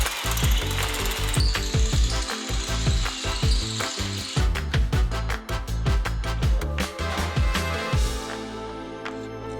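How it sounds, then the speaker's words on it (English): A power drill bores three holes for a steering arm mount, its ratcheting, chattering bursts repeating loud and close with brief pauses between, no voices over it. "I'm gonna grab a drill and I'm gonna drill out these 3 holes"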